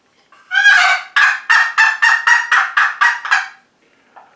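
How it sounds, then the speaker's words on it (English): A wooden turkey box call from 1958, scraped close by, producing a quick run of about ten loud, raspy yelps, then silence. "Old box call."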